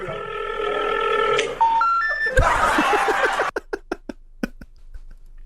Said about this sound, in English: Phone's been disconnected.